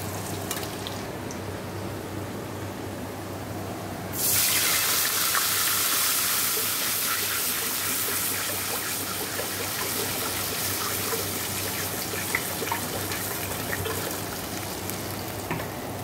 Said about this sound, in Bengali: আর তেলের পরে এই যে রসুন ফোড়ন দিয়ে দেবো।